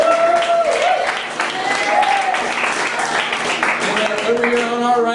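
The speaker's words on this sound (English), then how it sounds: "Give him a round of applause." Audience applause runs under a loud, continuous wash of crowd noise and voices, with a tonal whistle or music-like line on top throughout.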